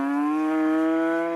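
A dairy cow from Korea, just unloaded after a long flight and truck journey to a village in Nepal, lets out one loud, sustained moo close by, alone without talk.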